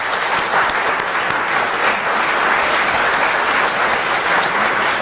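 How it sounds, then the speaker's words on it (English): A conference audience gives its speakers a sustained round of applause, dense and even clapping from many hands filling the room at a steady level for about five seconds, with no voices standing out. "A big round of applause."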